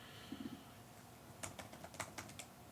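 Typing on a computer keyboard in a garage: a quiet, close flurry of quick, uneven key clicks in short bursts, with no talking.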